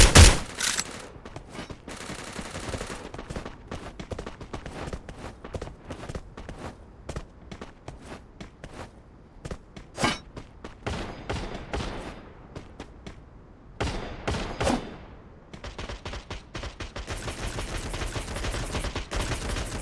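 Rapid bursts of gunfire in a video game during a tournament semifinal match, with sharp shots and automatic fire clustered in volleys, loud and close, separated by quieter gaps.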